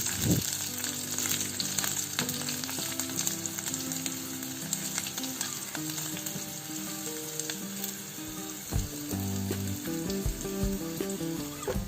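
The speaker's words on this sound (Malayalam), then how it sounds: "ഇനി നമുക്കിത് നല്ലപോലെ ഇളക്കി കൊടുക്കാം നമ്മളിട്ട് കൊടുത്ത വെളുത്തുള്ളിയുടെ ഒരു പച്ച ടേസ്റ്റ് മാറുന്നത് വരെ നമുക്ക് നല്ലതുപോലെ വഴറ്റിയെടുക്കണം" Garlic sautéing in a pan with watermelon rind, a continuous bright sizzle punctuated by scraping and clattering strokes of a spoon stirring the pan, fairly close, with faint tonal hum underneath and no speech.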